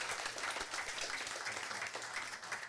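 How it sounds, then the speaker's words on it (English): A steady round of applause from attendees at a city council special meeting, a dense, even patter of many hands clapping in a room, fairly faint and continuous with no talk. "Give her a round of applause for all she does,"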